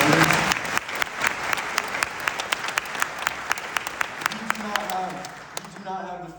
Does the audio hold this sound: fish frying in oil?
no